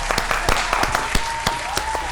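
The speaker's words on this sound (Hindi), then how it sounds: "आपकी भरपूर तालियों में सागर आचार्य।" An audience applauds to welcome a guest onto a Punjabi TV chat show, with bursts of clapping over steady crowd noise throughout a short passage.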